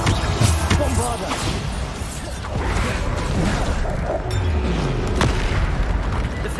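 Bombarda explosion spells going off in Hogwarts Legacy combat, with dense booming blasts and crashing impacts over steady game music and effects throughout.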